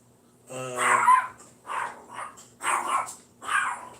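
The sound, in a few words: dogs barking and growling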